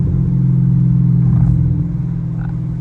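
A Camaro SS on a night drive gives a loud, close, deep exhaust drone with a brief swell and a few scattered crackles as it settles back.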